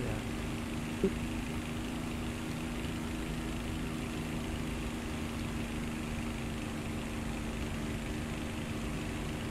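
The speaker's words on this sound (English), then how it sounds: "at the moment my engine sounds decidedly mono" A steady aircraft engine drone plays in the DCS flight simulator. The hum is even and unbroken at a moderate distance, low and constant throughout, with no voices.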